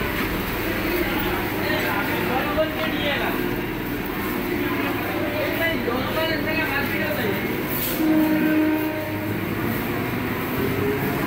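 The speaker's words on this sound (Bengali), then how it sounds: "ট্রেনটি আমাদের 4 নম্বর প্ল্যাটফর্মে নামিয়েছে।" A train arrives at platform 4 of Barrackpore station with a loud, continuous rumble and rolling clatter, and voices are heard around it.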